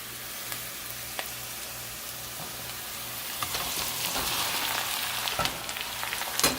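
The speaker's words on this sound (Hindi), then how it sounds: "अब हम यहाँ पर इसमें कीमा ऐड करेंगे जो कि आधा किलो के करीब है। हम इसमें कीमा डालते हैं" About half a kilo of minced mutton or chicken keema fries in a hot pan for patty stuffing, a steady close sizzle with occasional stir scrapes and crackles and no talking.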